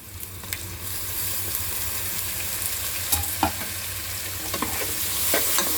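Ginger garlic paste sautés with onions in a hot pan, a loud continuous sizzle and fry with repeated spatula scrapes and clinks while being stirred.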